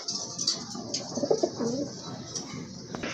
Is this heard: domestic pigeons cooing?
yes